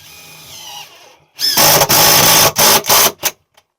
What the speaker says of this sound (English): This drill is useless.